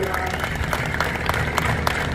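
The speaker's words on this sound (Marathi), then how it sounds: "एकदा जोरात टाळ्या वाजून आपण नितीनजीच स्वागत करूया" A rally crowd in Jat claps in welcome for Nitin, with dense, steady applause that holds throughout, and a voice is faintly heard underneath the clapping.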